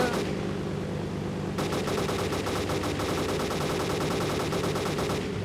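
Rapid automatic gunfire in the survival shooter DayZ. A dense, continuous stream of shots starts after a brief lead-in and keeps up steady bursts, loud and close, to the end.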